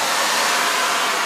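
A sandblaster running with an added air dryer gives a loud, steady hiss of rushing air, close and constant through the whole short stretch.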